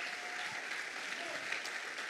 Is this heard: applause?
yes